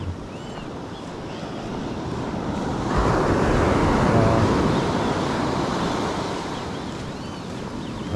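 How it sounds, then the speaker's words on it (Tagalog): Rough surf breaking on a beach at dawn during shore fishing, a steady broadband wash of waves that swells louder mid-clip, with wind buffeting the microphone and no talking. "guys medyo maalon."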